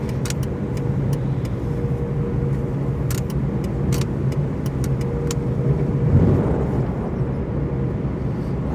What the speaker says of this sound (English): this is the BlueBird car wash on Overland in Boise, Idaho